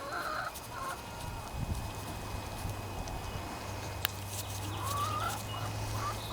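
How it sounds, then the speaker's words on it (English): Chickens cluck softly and intermittently against a steady low hum and background noise, with a few sharper calls scattered through. "My chickens are really wanting out."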